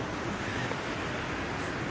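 Water rushes steadily from a dam syphon near Sambalpur, a dense, loud, unbroken roar with no talk over it.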